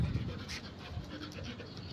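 A dog panting close up in quick, continuous breaths over a couple of seconds.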